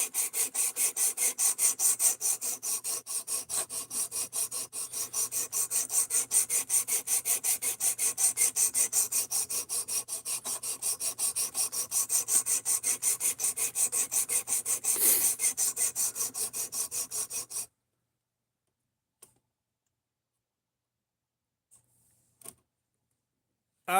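Steady rhythmic rasping of 220 grit sandpaper rubbed back and forth over wood, close and fairly loud for about eighteen seconds, then it stops, leaving near silence with a few faint knocks.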